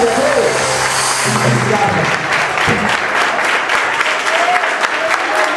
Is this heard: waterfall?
no